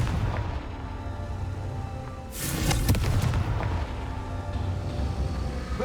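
A Confringo fire spell detonates in the Hogwarts Legacy video game, a burst of noise at about two seconds with a loud, crackling, booming rush that stays dense over the game's steady background ambience.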